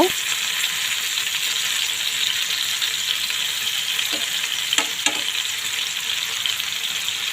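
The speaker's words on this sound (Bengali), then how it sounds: "আমি চামচ দিয়ে এপাশ ওপাশগুলো উল্টিয়ে দিচ্ছি। আমি দুই সাইড ভালো করে ভেজে নেব।" Pumpkin leaf fritters with chepa shutki fry in oil, a dense continuous sizzle with a few faint clicks of a spoon turning them, close and steady with no talk.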